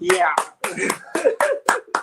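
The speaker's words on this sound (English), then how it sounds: "I just had to clap." One person claps hands at the end of a talk on intercultural engineering, a quick run of about eight sharp, close claps mixed with a voice speaking briefly.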